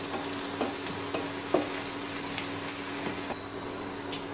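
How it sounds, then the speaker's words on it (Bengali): Garlic with green and dried chillies and onion frying in a pan until lightly browned, a steady crackling sizzle with occasional spoon stirs, near and unaccompanied by voices. "রসুনগুলো হালকা ব্রাউন করে ভেজে নেবো।"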